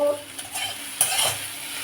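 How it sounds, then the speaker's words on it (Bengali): Okra frying in a pan for a home meal: a soft sizzle with a few light metallic scrapes and clinks of a spatula, fairly close and quiet, with no talking. "আর আমি এখন বসিয়েছি যে ভেন্ডি ভাজা, এটা গুড়িয়ার জন্য ভাজছি"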